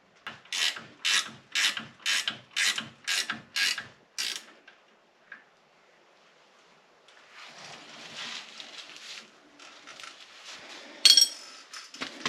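Brake bolts being tightened on the rear axle of a 2025 Polaris RZR 800 S, starting with a run of seven or eight even ratchet clicks. A quiet pause follows, then softer rubbing and scraping of metal parts and one brief sharp clink.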